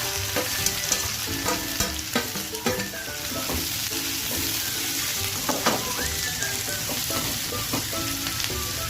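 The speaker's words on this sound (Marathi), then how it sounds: "त्याच तेलामध्ये जिरे आणि कांदा टाकायचा. कांदा चांगला मऊसूत होईपर्यंत भाजून घ्यायचा आपल्याला." Cumin seeds and chopped onion fry in hot oil for a Marathi sandaga vegetable dish, giving a steady close sizzle with occasional stirring scrapes and spoon clinks throughout, no voices.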